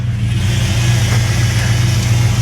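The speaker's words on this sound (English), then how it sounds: "Ooh, power steering is whining." A 1957 Chevy's engine runs loud and close with the power steering pump whining over it, a steady drone with a constant tonal whine sitting on top throughout.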